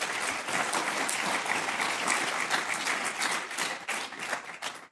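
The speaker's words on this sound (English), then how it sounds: "Let's extend them a warm round of applause." An audience at the opening of a Southeast Asia summit gives a warm round of applause, many hands clapping in a dense, lively patter that stays strong and then trails off at the close.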